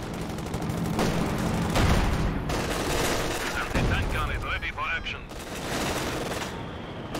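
Machine gun fire in Company of Heroes 2, a World War II strategy game, rattles in sustained bursts alongside battle noise and explosions, partly under a commentator's voice.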